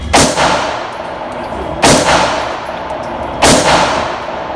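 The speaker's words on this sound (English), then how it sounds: "I already shot this on steel." Three evenly spaced gunshots at a shooting range, each a loud sharp crack followed by a ringing metallic clang from a steel target, with quiet pauses between shots.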